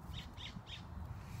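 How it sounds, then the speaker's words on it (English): Birds calling outdoors in fine weather, three short squawking calls spaced evenly over a second and a half, faint and distant against quiet ambient noise. "You can probably hear the birds."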